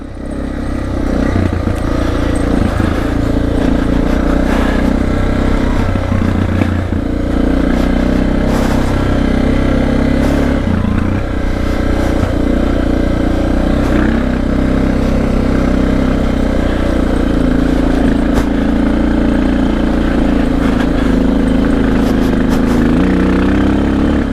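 A motorcycle with an airbox mod and big carburetor jets climbs a high mountain pass in the Rockies. Its engine holds a loud, steady drone the whole way, with light clatter and wind noise on top and no talking.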